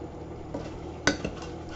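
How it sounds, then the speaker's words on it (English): Curry being stirred in a pot with curry leaves and ginger, a quiet steady bubbling bed broken by a couple of sharp clinks of a spoon against the pot near the middle. "Give it another stir."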